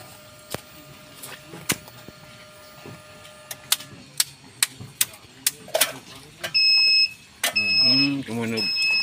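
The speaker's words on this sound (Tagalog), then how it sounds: "Pagka pinatay mo yung power, nag-a-alarm na ganun." A hybrid inverter in an off-grid solar setup sounding its alarm once power is switched off: scattered clicks and taps give way to steady, loud electronic beeps in repeated bursts, with a voice speaking alongside.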